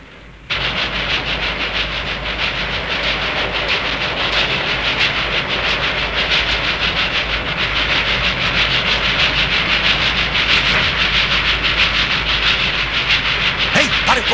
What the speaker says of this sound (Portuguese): Ei, para o comboio!